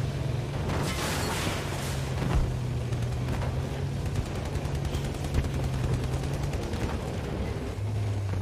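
Gunfire in the shooter Battlefield 2042 crackles in rapid, overlapping bursts over a dense, steady battlefield din of rumbling explosions and engine drone, with no pause throughout.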